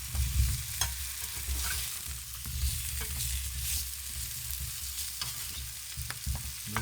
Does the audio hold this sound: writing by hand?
no